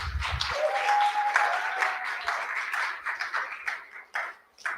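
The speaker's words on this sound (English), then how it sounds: "Let's have a round of applause for Madison" An audience applauds a young entrepreneur after her pitch, a steady patter of many claps that swells and then thins out toward the end, with a faint whistle-like tone near the start.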